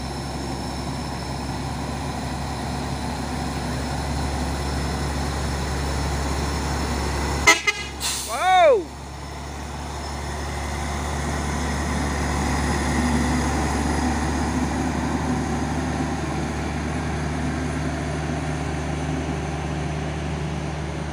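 A Fuso Super Great truck passing on a road with a steady engine rumble, then two quick blasts of its horn midway, followed by continuing low traffic noise.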